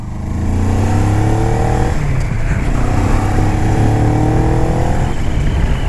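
A Moto Morini Calibro motorcycle engine held at steady high revs, a loud, close, continuous drone with rising and falling harmonic sweeps, alone without talk.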